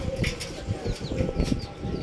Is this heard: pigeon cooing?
yes